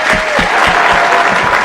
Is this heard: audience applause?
yes